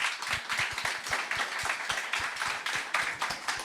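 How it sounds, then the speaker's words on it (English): Audience at a modular summit stage applauds the panelists, a steady patter of many hands clapping at moderate distance, with no voices over it. "let's give a big round of applause to our panelists."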